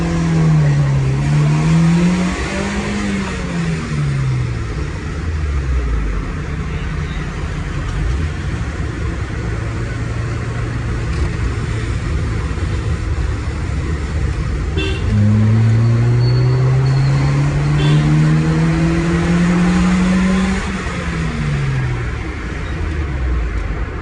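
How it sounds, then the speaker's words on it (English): Naturally aspirated Japanese-market car engine revving repeatedly, pitch climbing and falling in long sweeps over a steady idle, loud and close with the windows down. "See the way this engine revs, it is absolutely blissful."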